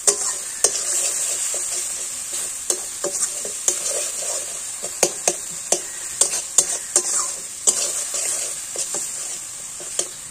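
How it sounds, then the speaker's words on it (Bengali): Paneer curry sautés and fries in a pan, a steady bright sizzle with frequent sharp taps and scrapes of a spoon stirring against the pan, close and fairly even throughout. "তো এটা হালকা কষা কষা হোক"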